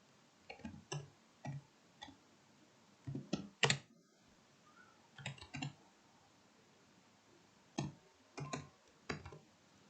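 Someone types on a computer keyboard, a quiet, close clatter of keystrokes in short irregular bursts with brief pauses between them.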